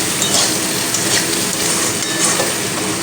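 Taro curry sautés in a pan with cumin and coriander powder while being stirred. A steady, dense sizzle runs throughout with faint scraping, close by and fairly loud, with no voices.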